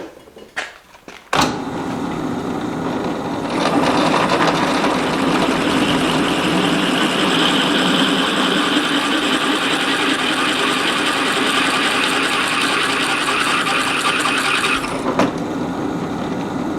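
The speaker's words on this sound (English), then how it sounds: "Yeah, that's drilling way easier than I thought it would." A power drill bores into metal, running steadily for over ten seconds with a continuous loud whirring grind and a harsh high edge, starting abruptly and stopping near the end.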